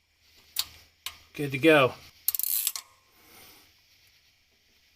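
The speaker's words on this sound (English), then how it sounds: "we're just going to tighten the jam nut." Wrench tightening a valve adjuster jam nut on a Chevy big block engine, heard as a few close ratcheting clicks and metallic taps, with a brief spoken remark in between.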